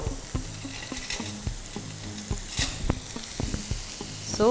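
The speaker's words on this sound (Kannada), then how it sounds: "ಕ್ಯೂಬ್ಸಲ್ಲಿ ಕಟ್ ಮಾಡ್ಕೊಂಡಿರುವಂಥ ಈರುಳ್ಳಿ ಎಲ್ಲವನ್ನು ಕೂಡ ಒಟ್ಟಿಗೆ ಹಾಕ್ಕೊಂಡು ಸ್ವಲ್ಪ ಹೊತ್ತು ಫ್ರೈ ಮಾಡ್ಕೊಳ್ಳುವಂಥದ್ದು" Cubed onions frying together in a pan for mushroom fajita pasta, a close, busy sizzle with repeated spatula knocks and scrapes against the pan at an uneven rhythm, no talk.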